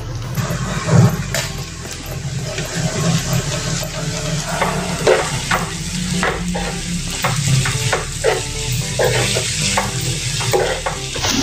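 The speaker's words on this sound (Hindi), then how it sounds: "ये भी 1 मिनट ऐसे ही अभी भुनेंगे।" Besan and ground spices roasting in a pan for a spring onion sabzi, giving a continuous loud sizzle with scraping spoon strokes and occasional clinks of stirring, close up and with no talking.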